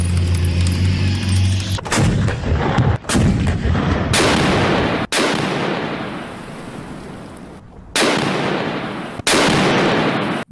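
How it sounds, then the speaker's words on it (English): German 88mm Flak artillery gun firing several loud, booming shots spaced a second or two apart, each followed by a long rumbling decay, with no talking. "German 88mm gun is one of the most well-known and feared artillery pieces of the 20th century."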